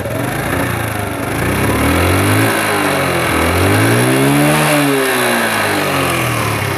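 A Japanese Honda Super Cub 50cc motorbike with its original silencer idles and revs steadily nearby, its small engine rising and falling in pitch over a constant mechanical drone.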